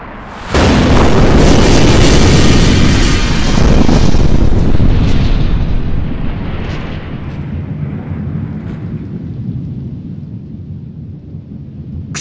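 A massive explosion from a Gamera monster scene bursts loudly and rolls into a long, rumbling roar that slowly fades over several seconds.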